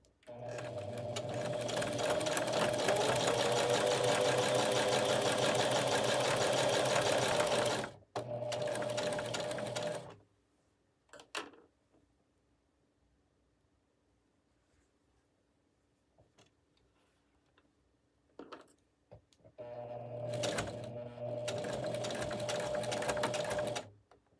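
A domestic sewing machine runs in steady, loud bursts of rapid stitching, with a long quiet gap broken by small handling clicks before the motor starts up again.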